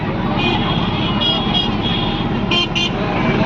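Street traffic in Jalgaon Jamod hums steadily with engine noise, while a couple of short horn toots ring out near the end.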